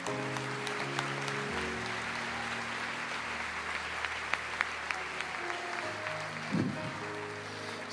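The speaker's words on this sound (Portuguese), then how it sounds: "A igreja aplauda o Senhor." A church congregation claps together during a worship service, a sustained spread of applause beneath sustained organ or keyboard chords, with a brief louder burst near the end.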